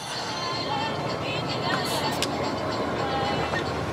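An old second-hand train engine on a Congo railway: a continuous loud rumble and rattle of the moving train, steady and close throughout, with faint voices in the background.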